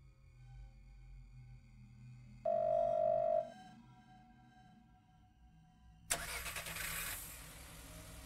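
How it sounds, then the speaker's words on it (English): A brief steady electronic tone sounds, then after a pause a car engine outside a door in the Chinese horror video game Firework cranks and catches, settling into a loud running rumble. "The sound of a car starting has come from outside the door."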